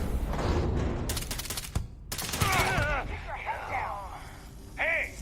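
A quick volley of gunshots rings out in Starfield, sharp and close at the start, then fades into quieter game sounds with chirpy tones, and a voice speaks faintly underneath.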